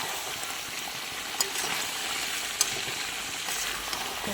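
Ground spices with ginger-garlic and garam masala paste mixed and frying in a pan, an even close sizzle with a couple of sharp spatula knocks against the metal, with no talking.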